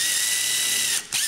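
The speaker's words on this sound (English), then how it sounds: "drill it down in there, and it's going to be like setting a tap in there" A drill drives a screw into a drilled hole in a DIY water level sensor for a horse trough, a steady close whirring grind that cuts off briefly near the end before resuming.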